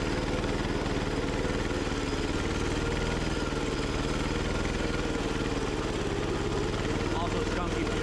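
Gravely tractor repowered with a diesel engine, idling with a poorly adjusted governor and skunky fuel: a loud, close, continuous throbbing idle that surges unevenly, with no talk over it.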